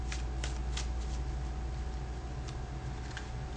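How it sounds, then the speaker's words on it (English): A deck of playing cards being shuffled during a card trick, giving a steady riffling rustle with soft repeated clicks of the cards snapping together, close and continuous over a low background hum. "give it a good shuffle"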